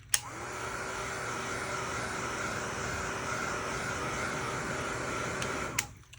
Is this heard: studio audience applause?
no